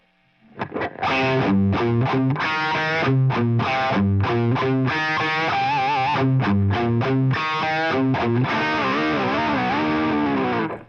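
Distorted electric guitar playing a slow phrase, bending notes up and down to mimic a whammy bar dip, ending in wobbling, warbling pitch.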